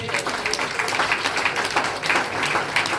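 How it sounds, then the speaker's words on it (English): Steady applause from an audience at the launch of the Mico International Math Summit 2019, many hands clapping continuously without pause. "Professor Claude, would you clap him in his memory?"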